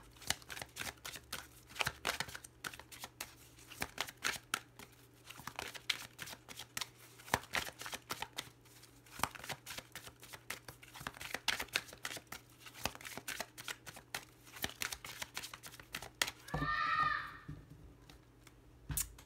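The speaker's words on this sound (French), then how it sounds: "toutes les cartes qui se retournent très vite en plus" Tarot cards shuffled by hand in repeated rapid riffles and flicks, close and quiet, with a brief louder burst of card handling near the end and no talking.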